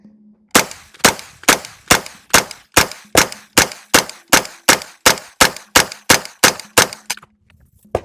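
Gunshots from a gun being test-fired for accuracy, about seventeen sharp, loud reports in a steady, rapid rhythm with brief gaps between them, no talking over them.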